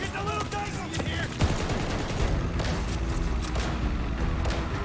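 Dense, overlapping gunfire from a Call of Duty Vanguard battle rattles on steadily and loudly throughout, with booms and mechanical clatter mixed in and a voice talking beneath it.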